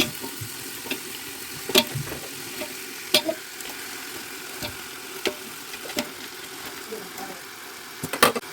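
Chicken pieces stirred with masala in a pan for chicken dum biryani, a steady low sizzle with sharp scraping clinks of a spoon against the vessel at irregular intervals, talk in the background.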